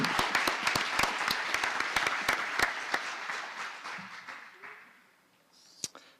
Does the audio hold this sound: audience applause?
yes